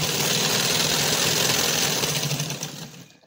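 Electric sewing machine stitching elastic onto fabric as the cloth is pulled taut, a steady close mechanical whir with fast needle chatter running for about three seconds before stopping.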